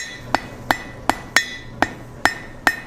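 Hammer strikes on hot steel during a forge weld, seven sharp ringing blows at a steady rhythm about every 0.4 seconds, close and clear with a faint metallic ring between hits.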